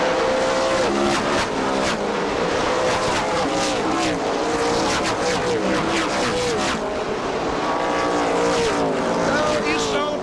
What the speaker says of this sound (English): Ron Young speeds away with Mike Cope in close pursuit.